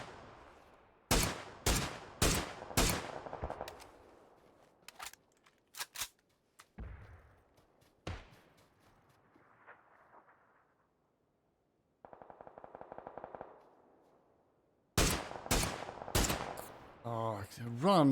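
Gunfire in the battle-royale game PUBG comes in sharp, close bursts of rapid shots, a volley early on, scattered single cracks in the middle and another quick string of shots at the end, separated by near silence.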